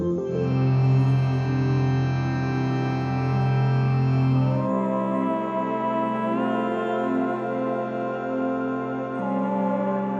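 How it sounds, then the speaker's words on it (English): Ambient music from an album: sustained, layered drones and held tones with reverb that shift to a new chord partway through, steady and unhurried, with no voices. "I've just released an album of ambient music."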